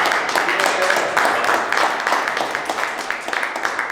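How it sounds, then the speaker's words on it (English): A crowd at an honoring ceremony for a women's wrestling champion applauds, a dense continuous wash of clapping held for a few seconds, with a voice talking over it. "Ladies and gentlemen, another round of applause."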